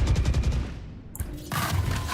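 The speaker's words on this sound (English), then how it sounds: "Placing swarm grenade. Swarm grenade." Swarm grenade bursts in the shooter game Valorant, a rapid rattling string of sharp pops and bangs followed by a second loud burst, heard over game noise with no talking.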